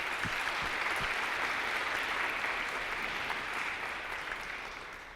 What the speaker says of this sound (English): Can we just get a round of applause for that?